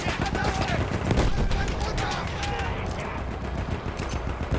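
Rapid machine gun bursts and scattered gunshots crackle in a Battlefield 1 battle, dense and loud, with layered explosions and combat noise throughout.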